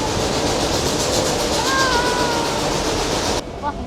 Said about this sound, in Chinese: 哇，火车又加速了。